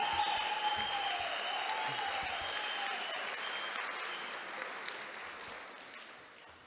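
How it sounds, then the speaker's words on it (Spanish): Sustained applause from the audience at a municipal council candidate debate in Monteverde, a broad steady patter of many hands, distant and fading gradually, with a faint tonal hum underneath. "regalémosle un fuerte aplauso a los cuatro candidatos que nos están proponiendo nuevas"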